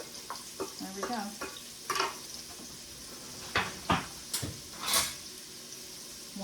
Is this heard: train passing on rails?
no